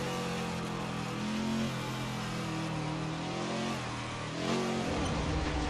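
A manual-gearbox vintage Ford GT40 in Assetto Corsa, its powerful engine droning and revving steadily with a slight dip and rise in pitch, loud and continuous throughout.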